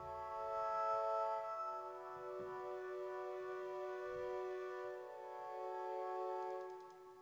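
A soft, sustained synth pad built in Reason for chillout music holds warm, layered chord tones that swell and shift slowly. It plays quietly and alone with no voices.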